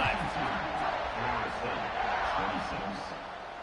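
Football stadium crowd during a kickoff, a steady dense roar of cheering and murmuring voices filling the space, loud and continuous with a slight fade toward the end.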